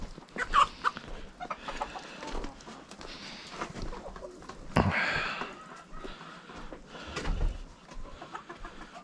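Chickens clucking in a coop during a morning visit to fancy-breed hens, with scattered clucks and squawks across the clip and a couple of louder close bursts.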